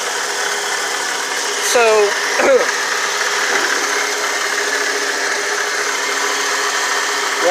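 A Ford pickup engine, a Lariat, idling as it warms up after coolant has been added: a steady low mechanical drone with light rattling, a couple of short squeaks near the start, and a single spoken word over it.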